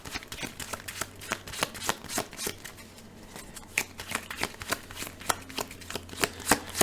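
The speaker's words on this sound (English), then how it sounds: "these cards need to get shuffled in" Playing cards shuffled during a solo Marvel Champions card game, Captain America against Ultron: a rapid run of crisp riffling snaps and clicks, close and fairly loud, continuing steadily with no talk.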